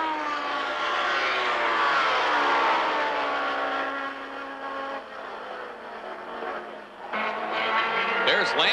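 Can-Am race cars racing at Lime Rock in 1985, their engines a loud, sustained roar with pitch sweeping as the cars accelerate and pass, easing slightly before surging again near the end.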